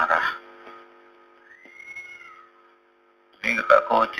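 A cat gives a short meow, with a faint rising-and-falling cry in the middle, between stretches of someone talking in Indonesian at the start and end.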